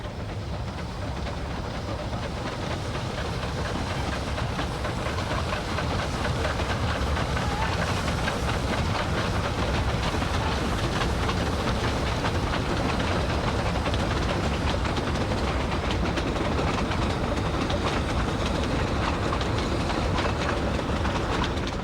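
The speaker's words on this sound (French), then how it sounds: "Elle représente le train à vapeur des beaux dimanches d'été, la carte de visite, chemin de fer du Vivarais." A steam train of the Chemin de fer du Vivarais in the Ardèche runs steadily for the whole stretch, a dense continuous rumble and hiss with faint clattering wheels and no pauses.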